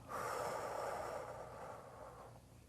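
A long, breathy exhale lasting a couple of seconds, loud and close, as a deep breath is let out during a classroom breathing exercise, fading off at the end.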